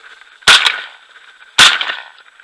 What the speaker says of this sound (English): I took 2 shots, but I got them.